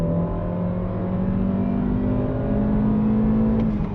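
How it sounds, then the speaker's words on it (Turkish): A 2012 Kia Sportage engine with manual gearbox revs hard and rises in pitch as it accelerates, a steady close-up drone with no talk, recorded inside the car while in gear. "gaza basıp içeriye motor sesleri gelmeye başlayınca"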